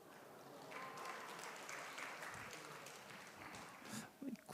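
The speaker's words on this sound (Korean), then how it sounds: "굳이 박수 칠 것까지야." A church congregation at a Sunday worship service applauds softly, a faint and distant wash of clapping that carries on steadily, with a voice briefly audible near the end.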